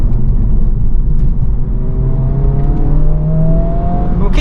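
A 2024 Honda Civic Type R held in second gear on a proving ground, its engine revving loud and close with a steady rising whir and no voices over it.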